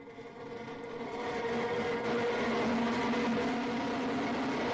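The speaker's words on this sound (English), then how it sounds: "And there we have engine relight." Blue Origin's New Shepard booster relights its engine during descent on a Texas landing, heard as a distant, steady low rumble that swells slightly and then holds as a continuous roar.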